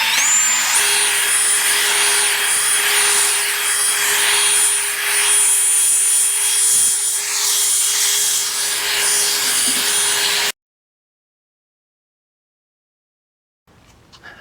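A powered sander with a fine 1500 grit pad works headlight or paint surface on a 2005 Ford F150 King Ranch, a loud steady whirring hum with a tonal whine that cuts off abruptly, followed by near silence.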